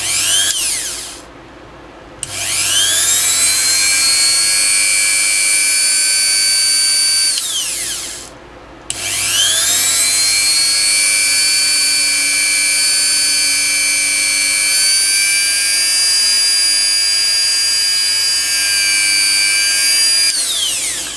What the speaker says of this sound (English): So let's drill this one now.